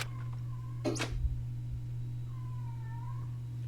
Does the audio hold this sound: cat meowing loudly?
yes